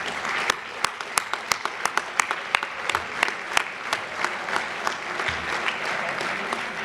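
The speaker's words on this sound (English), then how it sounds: "let's give them a round of applause as well" An audience claps in a round of applause for a committee at the Woodbridge Metro Chamber of Commerce Chairman Awards 2022 dinner. The claps are distinct and moderately dense in a room, fading to a thinner patter toward the end.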